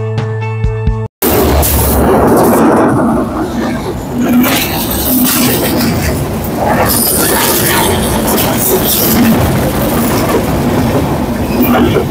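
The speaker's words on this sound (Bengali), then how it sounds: "আমরা এখন শাহগোলা রেলওয়ে স্টেশনে আছি" A train rumbles loudly through Shahgola railway station, with steady heavy wheel and carriage noise, clattering and occasional squeals sustained close by after a short burst of other sound at the start.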